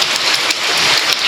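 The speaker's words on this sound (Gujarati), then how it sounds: "પણ વરસાદ ફૂલ ચાલુ છે" Heavy rain pours down steadily in a dense, even hiss of drops on surfaces, loud and close with no break and no voices over it.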